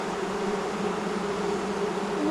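Honey bees confined in small queen cages give off a steady, close, dense buzzing drone that holds unbroken throughout, with no talking.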